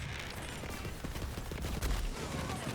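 Rapid gunfire from the Ogre weapon in Borderlands 3, a dense continuous burst of loud shots with heavy low-end punch, heard alone without talk.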